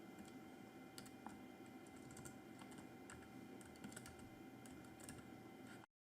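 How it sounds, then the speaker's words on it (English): Computer keyboard typing while searching files in VS Code: a steady stream of close, fairly quiet key clicks over a constant background hum, cutting off abruptly near the end. "I can type the first letter and find these files easily."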